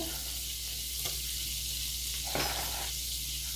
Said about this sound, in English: go ahead and add the ground ginger, which they call for, just add the onion